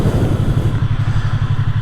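A Yamaha R3 motorcycle engine burbles up close with an even, rapid pulsing beat as the rider slows and shifts down, a steady low throb with no voices.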